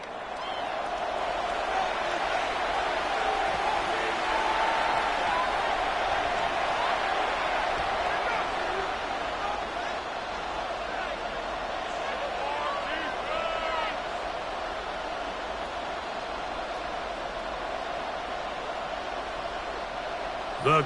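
A stadium crowd at an NFL Colts versus Chiefs football game roars as a steady, broad wash of noise, with a commentator talking over it throughout.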